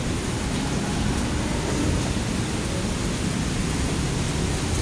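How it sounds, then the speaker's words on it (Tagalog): Heavy typhoon rain and wind roar as a steady, dense wash of noise with no breaks, close and loud throughout. "Talakas na naman ang ulan, no? Saan pang hangin?"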